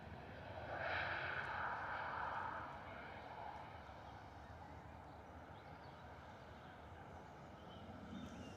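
Ryanair jet departing and climbing out at London Stansted: a faint, distant engine roar peaking briefly near the start, then settling into a low, steady rumble.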